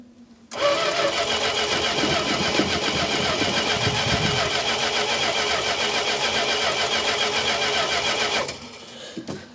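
An old car or truck cold-starts in below-freezing temperatures with a fresh ignition box, catching quickly into a loud, steady, close running engine that holds for about eight seconds before cutting off; no speech.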